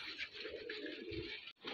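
Soft, low pigeon coos murmur close by, a few rolling calls in quick succession with a brief pause near the end.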